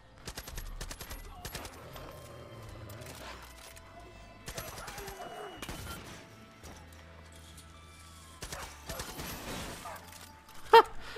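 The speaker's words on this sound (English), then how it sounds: "that's what happens when you shoot a lock off" Gunfire in Far Cry 5 as a lock is shot off, with scattered bursts of shots and crashing impacts spread across a quiet game scene and one sharp loud crack near the end.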